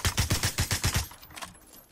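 Gunfire from up top in a video game cracks out in a rapid burst of about eight evenly spaced shots, then trails off into fainter, scattered echoing reports.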